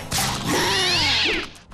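A cat meows once, loud and close, in a long drawn-out cry that rises and then falls, set in a cartoon scene.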